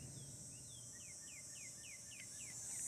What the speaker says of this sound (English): You can hear some cicadas.